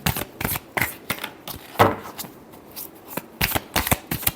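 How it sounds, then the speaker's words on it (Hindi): Tarot cards riffled and shuffled by hand in a steady run of crisp, papery bursts, close and fairly loud, with a brief pause midway before the shuffling resumes; no one speaks. "Last shuffle."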